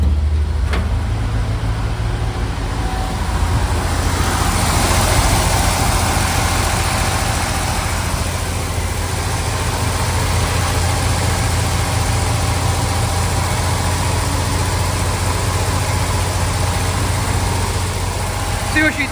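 A 1970 GMC 1-ton truck engine idles close by with a loud, steady low rumble and an even pulsing beat that holds throughout.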